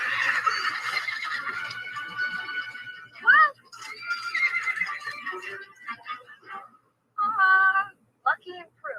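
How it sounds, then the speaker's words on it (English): Several horses whinny and neigh in bursts of varying length, some long and shrill, others short, with quiet gaps between calls, close and fairly loud without any talk. "Lucky and Crew hunt around for all the horses."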